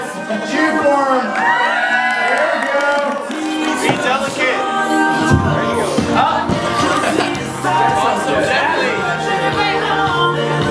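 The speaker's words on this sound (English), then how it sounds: "Come on, guys. Cheer for him." Crowd cheering, whooping and shouting encouragement at a UK Minute to Win It shoe-throwing game, loud and continuous with excited voices calling out throughout.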